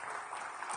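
Brief, fairly faint applause from an audience at a startup event in Bengaluru, steady broadband clapping with no voices over it.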